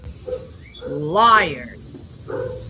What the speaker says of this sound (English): we hear the dog barking pretty much the entire time that the deputy can be heard walking through the house